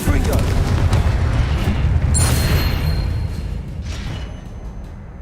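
A Confringo blasting spell exploding in the Hogwarts Legacy video game, a loud, heavy booming blast that rumbles on and slowly fades.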